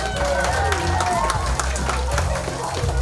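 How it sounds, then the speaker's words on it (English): An audience at a small holiday event applauds, a steady dense wash of clapping mixed with crowd noise and voices, held at an even level throughout. "Give her a big round of applause."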